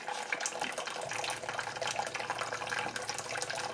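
Steady rush of boiling water pouring from a water dispenser, continuous and close, filling a vessel with no other sounds.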